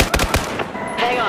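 Machine gun fire from a soldier's weapon in Battlefield 4, several loud close bursts of rapid shots in the first half, then a sustained hissing, rumbling din of combat.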